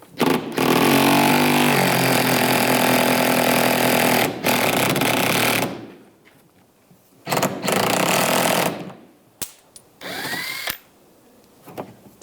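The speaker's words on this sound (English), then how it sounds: "Use a 10mm socket, take that bolt out." A power tool drives a 10mm socket to remove a bolt under a 2013–2016 Dodge Dart during rear shock absorber replacement: a loud, close whirring run of several seconds, then a few shorter bursts with quiet gaps.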